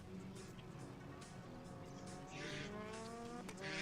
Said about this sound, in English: Josh, there the cars going through.